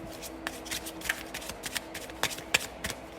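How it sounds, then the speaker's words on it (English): A deck of Oracle cards is shuffled by hand in quick, irregular riffling bursts, close and fairly soft, with no talking. "I have pre-shuffled, but as always, I'll go ahead and shuffle live."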